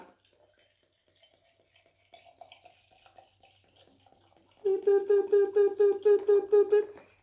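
Water poured into a glass while making a fruit drink with mint leaves, faint trickles and clinks at first, then a close, rhythmic glugging pour rising in pitch for the last couple of seconds.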